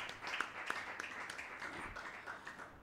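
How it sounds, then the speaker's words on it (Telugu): A church congregation at a Sabbath service clapping to welcome newlyweds Sachin and Shreshtha, a faint, distant patter of many hands with scattered sharper claps, steady and quiet throughout. "అందరు క్లాప్స్ కొడదాం ఒకసారి"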